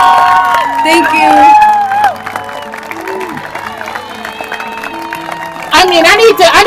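Crowd noise at a firefighter training program graduation: cheering, whooping and clapping from the audience, loud at first, dropping to a lower murmur with a voice over it, then swelling into louder cheers at the end.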